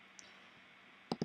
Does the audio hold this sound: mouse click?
yes